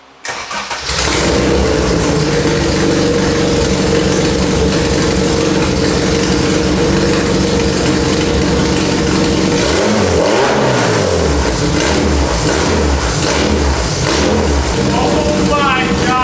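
A Honda Civic engine fires up and roars through a very loud modified exhaust, blipping the throttle in repeated rising and falling revs, close by.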